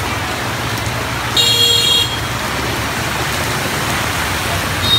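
Heavy rain pours steadily onto a flooded street in Saigon, a dense, even wash of noise. A vehicle horn toots briefly early on, and traffic is faintly audible underneath.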